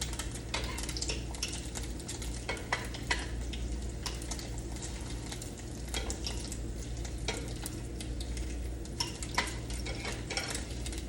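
Onions and corned beef sautéing in a pan at home, a steady close sizzle with scraping, stirring and clinking of a utensil against the pan throughout, no voices.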